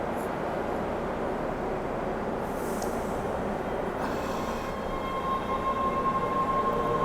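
A commuter train runs past with a steady, loud rumble that fills the whole stretch, with a brief hiss and a thin high whine near the end.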